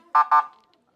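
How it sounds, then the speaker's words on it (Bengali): Two quick loud honks from the horn of a wooden bicycle, close and sharp, followed by quiet. "আচ্ছা হর্ন দিল"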